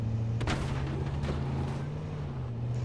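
Two muffled, distant gunshots go off in the battle-royale game H1Z1 over a steady low hum of background game sound.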